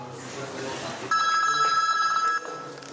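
A telephone bell rings with a steady, bright tone for about a second and a half, loud and close, cutting in after a stretch of low background noise and then stopping.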